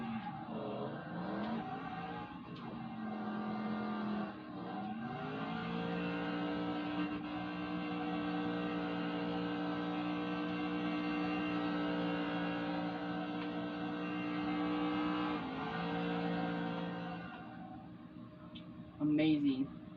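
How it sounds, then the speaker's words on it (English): A 1970 Chevy Camaro muscle car drifts around, its engine holding a steady, loud drone with a couple of rising revs and pitch shifts, continuous throughout and fairly close. "What if I make the car drift around the camera?"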